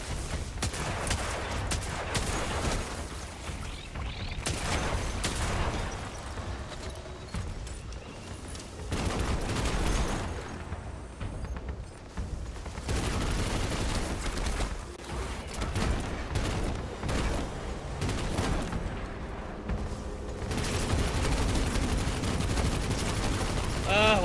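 Dense gunfire rattles through a Destiny 2 battle in rapid bursts and sustained volleys, loud and close, with voices talking over the shooting at times.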